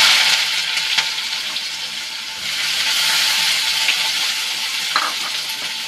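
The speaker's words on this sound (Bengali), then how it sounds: "পেঁয়াজটা দিয়ে দিচ্ছি, কুচানো পেঁয়াজ" Chopped onion and whole cumin seeds frying in a pan for a small-fish curry, giving a steady, close sizzle and hiss with occasional faint stirring clicks, no voices.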